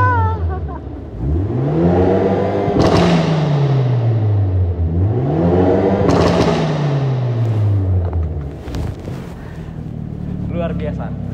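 A 2023 Hyundai Avante N engine revving hard twice, each rev rising and falling, with sharp exhaust pops and crackles on the overrun, loud and close.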